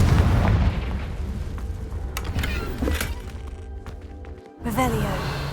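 A Confringo blasting spell goes off in Hogwarts Legacy, a deep booming blast up front that fades into rumbling debris, followed by a second sharper burst near the end, with speech around it.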